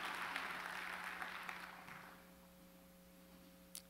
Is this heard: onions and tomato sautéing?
no